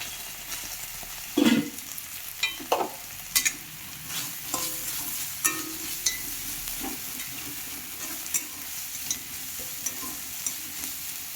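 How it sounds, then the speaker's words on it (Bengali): Chopped onion fries in oil with ginger-garlic paste for egg tarka, a steady background sizzle broken by repeated sharp spatula scrapes and knocks against the pan, with several louder clattering stirs near the start and no voices. "এবার এতে আমরা দিয়ে দিচ্ছি পেঁয়াজ কুচি।"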